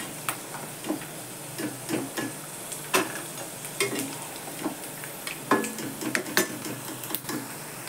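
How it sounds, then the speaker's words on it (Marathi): Peanuts and split chickpeas frying in oil, a soft sizzle under repeated light scraping and clinks of a spoon stirring in the pan, close and fairly quiet. "शेंगदाणे खूप करपून पण नाही द्यायचे, जरा असे चांगले फुटेपर्यंत तळून घ्यायचे."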